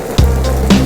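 Oyster sauce poured into a pan of golden pan-fried chicken with garlic and ginger in hot chicken fat, two sharp bursts of loud sizzling a moment apart, close up.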